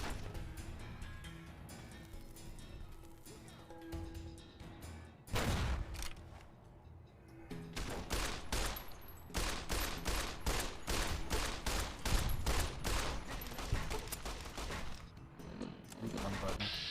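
Repeated gunfire in Fallout: New Vegas, a run of loud shots and bursts with booming impacts under voices talking.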